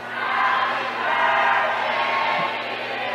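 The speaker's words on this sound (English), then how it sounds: "we got the crowd singing "Happy Birthday."" A crowd in a gym at a girls basketball game sings Happy Birthday together, a sustained, blended mass of voices filling the hall at steady loudness.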